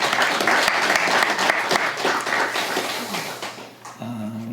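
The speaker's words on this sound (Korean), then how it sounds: "박수로 환영하겠습니다." A church congregation at a Korean Full Gospel Sunday service claps in welcome, a loud and busy round of applause that fades near the end before other sound takes over.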